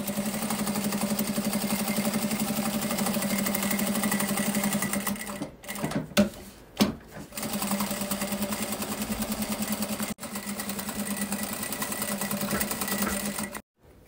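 Sewing machine stitching the main fabric to the lining of a small apple-shaped coin purse, a steady close mechanical whir that briefly stops and restarts around the middle, then runs on with another short break.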